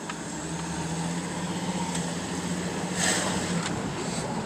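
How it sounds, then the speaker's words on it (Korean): A 2008 Kia Mohave 4WD KV300 engine hums steadily at a moderate level while driving, with road and cabin noise underneath and a brief rise in rushing noise partway through. "엔진 소리가 참 좋아서 제가 마음에 드네요"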